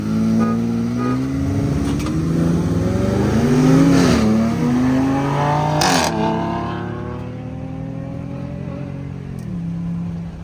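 Second-generation Toyota Tundra pickup revving and accelerating hard from a launch, engine pitch climbing through gear changes and then fading as the truck pulls away, loud and alone.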